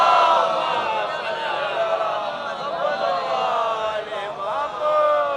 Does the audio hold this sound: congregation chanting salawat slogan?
yes